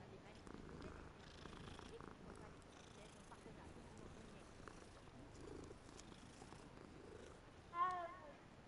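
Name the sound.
cat purring in the video game Hogwarts Legacy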